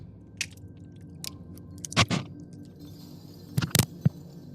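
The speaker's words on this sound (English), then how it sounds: "Look! Keys! One of them must open the gate." Metal keys jangle in the video game Oblivion: Shivering Isles, in a few short, bright rattling bursts over a low steady background hum, with a louder cluster near the end.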